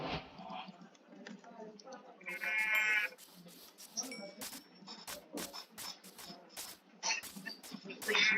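Sheep bleat in a video game with wool drops, short repeated bleats amid rapid keyboard typing and clicking, with a voice speaking at times.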